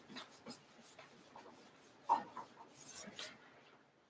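Dark wax is brushed and rubbed onto distressed wood in soft, close, irregular strokes, faint scratchy swishes with a few sharper scrapes, quiet overall.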